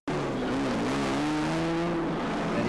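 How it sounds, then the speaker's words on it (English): A historic Ferrari Daytona race car at the Bergamo Historic Grand Prix roars past loudly and steadily, its engine note shifting slightly in pitch as it goes by, with no voices. "70, the Ferrari Daytona of Morigi"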